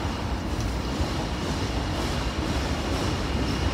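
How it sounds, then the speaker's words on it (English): Loud, continuous rumble of a train rolling past on the Williamsburg Bridge, a steady heavy roar with no break and no voices. "We got trains, we got traffic."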